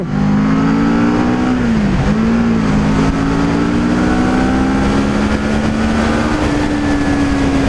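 A CF Moto 650NK 650 cc motorcycle engine drones steadily and climbs in pitch as it accelerates, loud and close, with a brief dip in revs early on.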